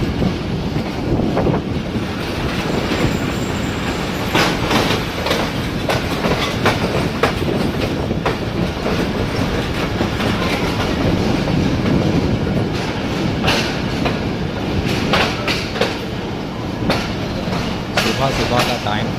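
The Miyanwali Express passenger train rolling slowly toward Lahore Junction in Pakistan, a loud steady rumble with repeated clickety-clack of wheels over rail joints and occasional squeals, heard from on board.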